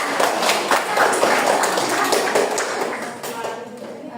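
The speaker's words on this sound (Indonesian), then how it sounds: "tepuk tangan untuk teman Teresa" A classroom group claps for a classmate, a busy spread of hand claps at close range that thins out toward the end, with a voice or two heard over it.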